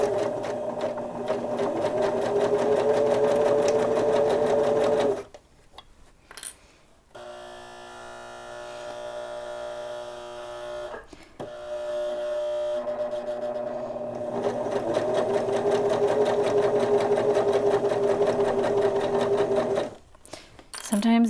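Sewing machine stitching fabric for a Kindle sleeve, running in long steady bursts with a brief stop partway through, loud and close.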